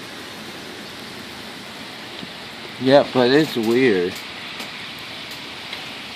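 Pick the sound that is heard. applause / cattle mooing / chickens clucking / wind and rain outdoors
wind and rain outdoors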